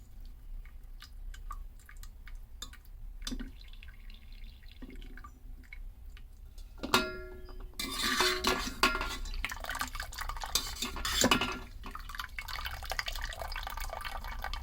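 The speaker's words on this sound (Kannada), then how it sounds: "ಈ ಥರ ನೀರು ಬಸಿದ ಬೇರೆ ಒಂದು ಪಾತ್ರೆ ಒಳಗೆ ಹಾಕ್ಕೋಬೇಕು." Boiled pundi greens are drained, water pouring and splashing into another pot after some scattered clinks and drips, the pour growing louder and fuller toward the end.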